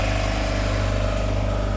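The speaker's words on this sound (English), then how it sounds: "with the exception of my engine noise" A boat's engine runs steadily on the Intracoastal Waterway, a constant low droning hum with a faint throb, close and continuous, with no voices over it.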